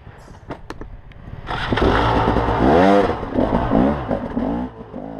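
A trials motorcycle engine revs hard on technical adventure-ride terrain, rising into a loud, close wavering whine that swells and falls after a few quieter knocks at the start.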